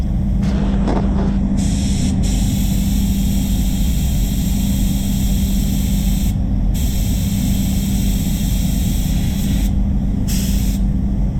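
A loud, steady hiss of a spray gun blasting clear coat onto a car continuously, with brief pauses between passes near the end.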